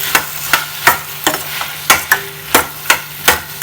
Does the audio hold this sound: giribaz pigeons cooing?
no